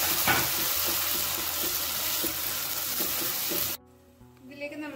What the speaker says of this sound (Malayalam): ഇതിലേക്ക് നമുക്ക് ടൊമാറ്റോ ആഡ് ചെയ്ത് കൊടുത്തേക്കാം.